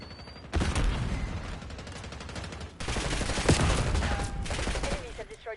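Gunfire in the video game Call of Duty Black Ops 6: dense bursts of rapid shots crackle loudly in two long stretches, with a short lull between them.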